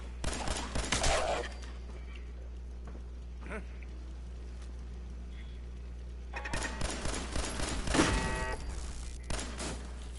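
Gunfire in the video game Fallout 4: two short bursts of rapid shots several seconds apart over a quiet low hum, the second burst longer and followed by faint echoing clatter.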